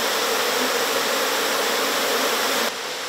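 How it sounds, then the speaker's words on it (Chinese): A swarm of wild bees is smoked out of its hive in the forest, giving a dense, steady, loud buzzing hum that fills the whole clip with no speech. "现在就是用香烟跟烟啊，把那个蜂群熏出来，然后我们要找女王蜂，因为那个蜂它怕烟啊"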